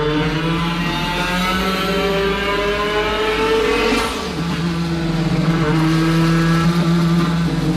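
Sampled engine sounds play from twin speakers mounted in a custom RC drift car, a loud, steady, harmonic-rich engine drone imitating a naturally aspirated BMW E30 M3, with a brief dip in pitch midway before climbing again.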